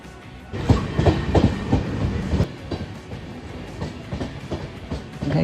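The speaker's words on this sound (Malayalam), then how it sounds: "അങ്ങനെ നമ്മൾ ട്രെയിൻ എത്തിയിട്ടുണ്ട്" A train pulls into the platform at Aluva railway station in Kerala, rhythmic clickety-clack of wheels over rail joints rising then easing as it slows, fairly close.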